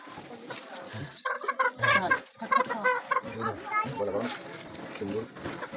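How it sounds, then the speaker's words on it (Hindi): A rooster clucks among children's voices in a busy outdoor setting, with brief clucking sounds mixed into lively chatter from several people. "मुर्गा छोटा ला दे ताजा वाला"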